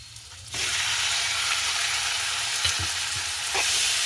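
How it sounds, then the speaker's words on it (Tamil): Prawns drop into a frying curry mixture for a prawn kuzhambu and are stirred in, a loud sizzle suddenly flaring up and holding steady, with a few utensil scrapes and clinks. "அதையும் சேர்த்து இந்த கலவையோட வடிவாக இருக்கா கிண்டி விடுவோம்."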